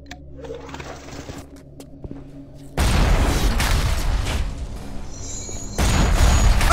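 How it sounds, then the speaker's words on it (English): Rocket launcher firing in BioShock Remastered: after a quiet mechanical hum, two loud sudden blasts erupt, each followed by a sustained rushing roar of the explosion up close. "That's a freaking rocket launcher!"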